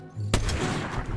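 A sniper rifle shot in the video game Fortnite, a single sharp, loud report that bursts in abruptly and rolls off into a sustained noisy echo.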